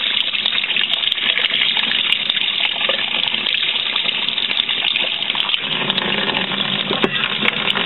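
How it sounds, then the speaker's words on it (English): Tap water gushing steadily through a removable Canon inkjet printhead held under a faucet to flush out ink, a loud, continuous rushing stream with small shifts in tone as the flow hits the part. "Keep running that water through it."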